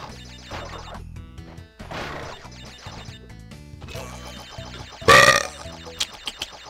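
A character in the video game Crash Bandicoot 2 lets out a single short, loud burp over bouncy game music, followed by a few small thuds.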